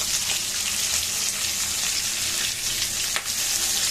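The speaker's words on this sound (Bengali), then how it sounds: "মাছ ভাজিয়ে নিচ্ছি" Fish frying in a pan in a home kitchen gives a loud, steady sizzle with dense crackling throughout, and a few sharper spatters stand out along the way.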